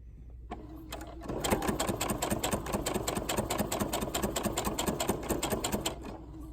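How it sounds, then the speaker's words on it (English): Close, rhythmic stitching from a sewing machine runs steadily for several seconds while sewing a T-shirt blanket, with quick regular needle ticks over a motor whir. "I'll backstitch there and then take it off of my machine"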